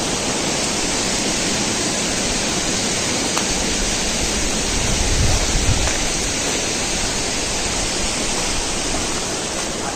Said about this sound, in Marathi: या पुलावरून आरामात पाणी जातो.